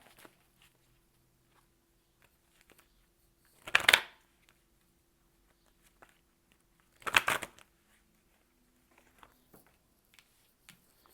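Cards are shuffled for a pick-a-card reading in two short, crisp riffling bursts a few seconds apart, close by, with near silence around them.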